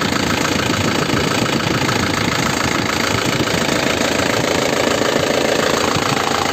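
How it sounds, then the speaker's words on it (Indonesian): A 2009 LS Turbo engine idles with a loud, steady, gritty rumble and a fast, even knocking pulse, continuous and close. "Ini posisi mesin menyala ya."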